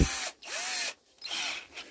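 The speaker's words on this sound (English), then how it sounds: "So we have got a drill." An electric drill spinning a brass rod whirs in short bursts, spinning up and winding down with a rising and falling whine, close and fairly quiet.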